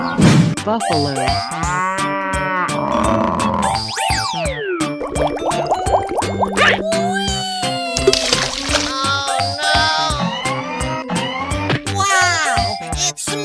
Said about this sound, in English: cow, buffalo,